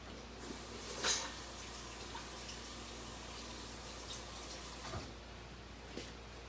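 Faint tap water running into a kitchen sink while something is rinsed off during home baking of lemon berry cheesecake squares, a steady low hiss with a few soft clunks and splashes.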